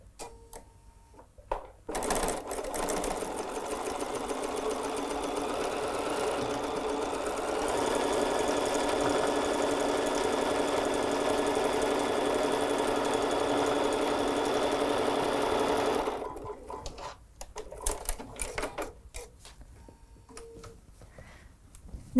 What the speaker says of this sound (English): I've got a seam guide that's going to hold me true to that 1/4 of an inch